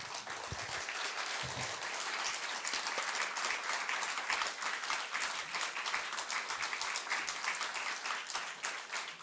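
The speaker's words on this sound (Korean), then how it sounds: "우리 마지막 날 김동욱 목사님 나오실 때 우레와 같은 박수와 환호로 맞이하도록 하겠습니다." A church congregation at a revival meeting claps and cheers to welcome a pastor, with dense, steady applause that fills the room for the full stretch without letup.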